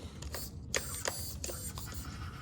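A Traxxas TRX-4M RC crawler's steering servo whirs in short, repeated mechanical bursts as the wheels turn back and forth. The sound is close and fairly loud, with no talking.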